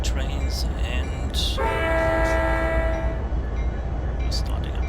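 In the Trainz railway simulator, a train horn sounds one sustained, loud tonal blast over a steady rumble of running trains, with short clanks and brief noises around it.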